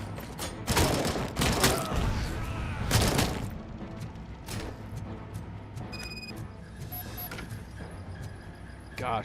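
AK rifle bursts in the RoboCop Rogue City video game crack out in rapid loud volleys, followed by booming impacts and thuds, then a quieter stretch of scattered game effects and a few faint beeps.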